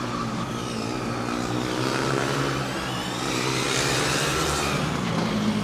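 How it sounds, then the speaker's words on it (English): The Akron Formula Student race car runs loud during an endurance event with a suspected fallen-off exhaust, a continuous droning engine roar that swells slightly in pitch and level. "It sounds like the exhaust has fallen off, because the noise emanating is quite a bit louder."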